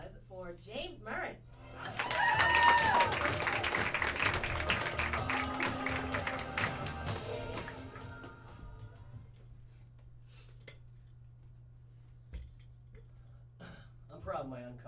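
Applause and cheering at a student stand-up comedy show swell for about six seconds, with distinct claps and crowd noise, then fade out as a comedian starts talking at the mic.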